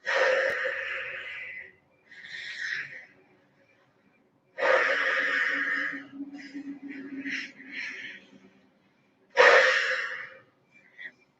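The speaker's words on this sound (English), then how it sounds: "So it goes in between power breathing." Vigorous power breathing during a Pilates and mindfulness exercise, heard as three forceful, close breath bursts, each lasting a second or two, separated by short quiet pauses, with faint wheezy inhales in between.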